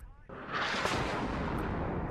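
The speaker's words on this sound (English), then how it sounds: "The artillery is pretty spot on." Artillery fire in the video game WARNO lands as a heavy, rumbling blast that swells quickly and rolls on in a long, dense roar, loud and close, with a brief voice just before it.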